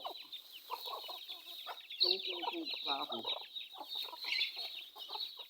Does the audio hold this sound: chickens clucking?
yes